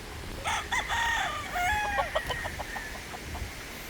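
Pullets on a small chicken farm cluck in a quick burst of overlapping calls, then settle into scattered softer clucks. The sound is close and clear against quiet background hiss.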